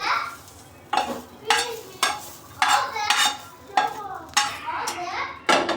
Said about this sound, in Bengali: এখন আমি ভাজা পেঁয়াজগুলো একটা ছোট বাটিতে ঢেলে নিই।